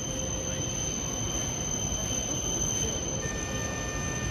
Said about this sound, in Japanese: 11番線に到着の電車は18時18分発トキ342号東京行きです。